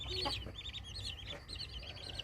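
A surrogate mother hen clucks softly while her chicks cheep in high, rapid peeps, close and fairly quiet with a low background hum.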